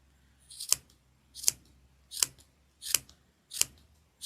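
Sharp scissors snip through wound yarn while trimming a handmade pom pom: five crisp, close cuts spaced evenly about three-quarters of a second apart, with no talking.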